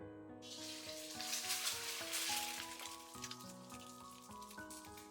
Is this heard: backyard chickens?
no